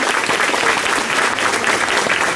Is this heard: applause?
yes